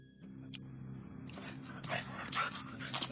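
A dog whimpering and yipping excitedly in short high bursts at close range, over a low steady hum.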